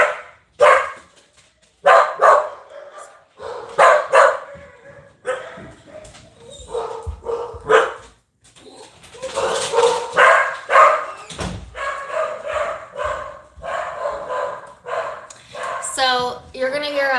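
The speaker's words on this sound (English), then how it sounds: "his dog absolutely loses it. And there's nothing I can do about it. Until he walks in, they're going to bark and bark and bark" Dogs bark excitedly inside a home, the sharp yaps rising in bursts and overlapping with whimpers and yips, mixed with talk throughout and a high squeal near the end.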